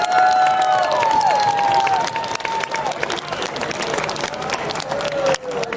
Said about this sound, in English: Jeff, tonight we're going to give you a round of applause representing all of those people.